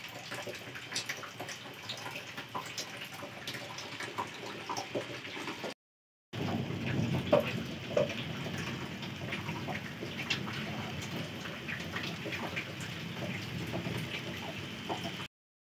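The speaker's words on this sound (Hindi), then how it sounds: "बारिश भी हो रही है साथ साथ ही।" Rain falls outside in a village in Uttarakhand while the sun shines, a steady soft hiss of drops with scattered taps, broken by a brief silent gap before resuming a little louder.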